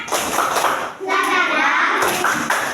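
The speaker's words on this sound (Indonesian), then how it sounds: "Tepuk semangat." A group claps together in a quick chanted rhythm, loud and close, with children's voices calling along between the claps.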